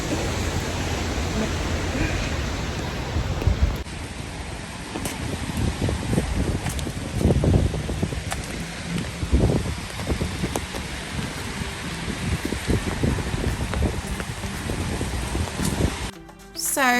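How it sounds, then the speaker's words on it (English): Steady outdoor rain hisses as a broadband wash through the whole stretch, with wind and rustling mixed in and a few brief nearby knocks and movement sounds; no talking. "It's raining."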